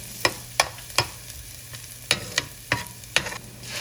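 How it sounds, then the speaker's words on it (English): Diced shallots and garlic frying in a pan for a spicy tomato seafood sauce, a steady low sizzle punctuated by about eight sharp clattering stirs of a utensil at irregular intervals. "Add your diced shallots and cook them down for about 3 to 4 minutes."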